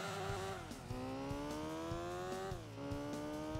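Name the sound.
car engine revving in a video game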